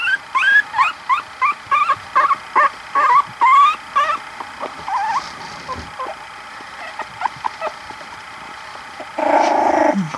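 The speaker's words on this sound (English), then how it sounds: "Oh, a little growl." A three-week-old puppy gives a run of high, squeaky yips and whimpers, then a short rough growl near the end, close and fairly loud.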